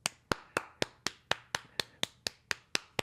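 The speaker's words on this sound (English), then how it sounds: "Clap again" Hands clap in a steady, evenly spaced rhythm, about a dozen sharp, close claps over three seconds in a quiet podcast studio, with no voices.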